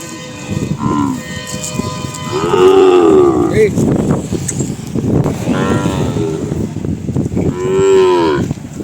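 A large cow on a farm moos in several long, loud calls, one near the start, one in the middle and one at the end, over steady background noise.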